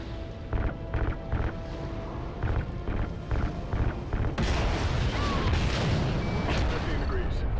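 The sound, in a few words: gunfire shooting down spaceship in Call of Duty Ghosts video game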